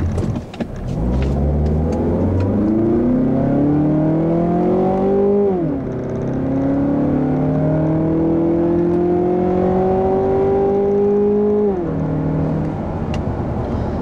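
A 2016 Mazda6 with the 2.5 liter Skyactiv four-cylinder accelerating hard, its engine note rising steadily through one gear, dropping at a shift, then climbing again through the next gear. It is loud and close, from inside the car, with no talking.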